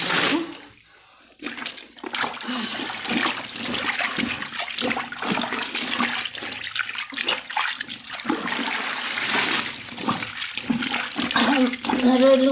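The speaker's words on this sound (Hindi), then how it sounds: "महीनों बाद मैं धो रही हूँ हाथ से कपड़े" Clothes are washed by hand in water at home, with continuous sloshing, splashing and rubbing sounds that rise and fall close by, briefly dipping near the start.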